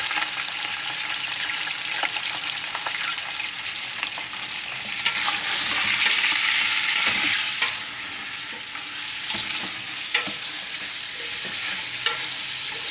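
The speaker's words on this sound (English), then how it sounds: "now you wait until it's hot, and then you start to stir" Adobo is stirred in a hot pan, producing a continuous sizzle with scraping and clicking utensil strokes that swell to a louder burst in the middle, with no talk.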